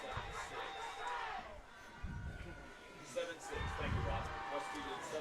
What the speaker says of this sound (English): I like to hear the crowd.